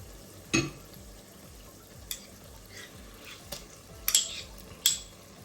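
Yogurt being stirred into a Madras chicken curry masala in a pan over a low flame, with a spoon scraping and clinking against the metal in a few sharp, separate knocks over a quiet background, with no talking.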